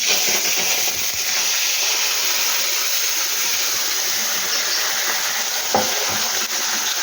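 Small hilsa fish fry in hot oil with a loud, dense, continuous sizzle and hiss close by, broken only by a faint knock or two.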